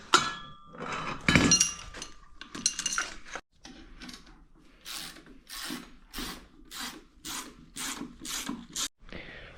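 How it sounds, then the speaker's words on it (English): A 5-ton jaw puller is worked on a car drive shaft during a ZF transmission swap on an E36 drift car, giving close, repeated ratcheting clicks in a steady rhythm after a few heavier metallic knocks. "Got this 5-ton jaw puller, whatever it's called."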